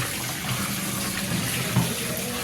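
Tap water runs steadily into a sink while meat is rinsed and washed, a continuous close splashing hiss with a small clatter near the end; no speech.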